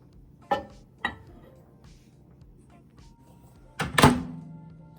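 A microwave oven is worked while heating mustard oil with whole cumin: two sharp clicks a moment apart, a quiet stretch, then a louder thunk with a brief rattle, all close and in an otherwise quiet kitchen.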